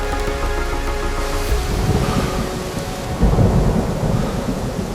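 A heavy thunderstorm pours down over a valley, steady loud rain hissing while deep thunder rumbles and swells, with a strong crash rolling in midway.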